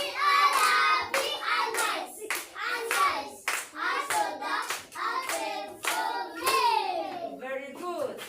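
Children in a classroom clap their hands in sharp, rhythmic bursts alongside loud, chanting young voices, the claps punctuating the singing-like speech throughout.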